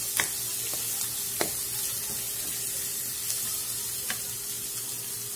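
Chopped carrots are stirred in a hot pan, with a soft, steady sizzle and a few sharp scrapes and clicks of the spoon against the pan.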